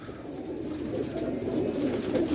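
Pigeons coo softly and continuously in a loft, a low murmuring cluster of overlapping calls with a steady background hum and no talking.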